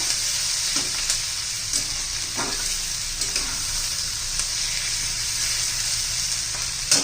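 Onions frying in oil in a pan, a steady, loud, hissing sizzle throughout with faint occasional stirring clicks, close up and without talk.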